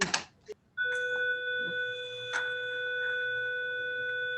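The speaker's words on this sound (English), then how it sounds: "that is our lovely bell" An electronic school bell rings with a steady sustained multi-tone chime after a brief rustle at the start, holding evenly and fairly loud with no talking.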